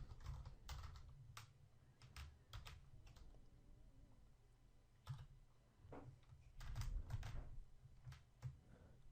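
Numbers and an address are typed on a computer keyboard in quick bursts of close, crisp key clicks with short pauses between runs, no voices present.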